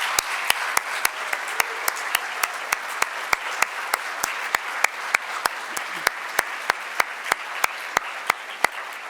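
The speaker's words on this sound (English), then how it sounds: "Would you please join me in another round of applause for our honorees" Audience applause for award honorees at a law school awards ceremony, heard as a steady, moderately distant patter of many hands, punctuated by a series of sharp, regular clicks.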